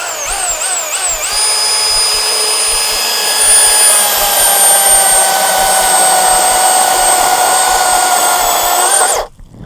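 A Milwaukee dual battery chainsaw in high torque mode makes a plunge cut into wood, a loud steady motor whine rising as it spins up and holding for about eight seconds before cutting off abruptly.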